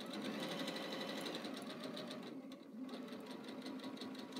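A quilting sewing machine with a large extended work area stitches at reduced speed, a steady mechanical whirring hum with faint repeating needle ticks, fairly quiet and unbroken apart from a slight dip midway, with no voices.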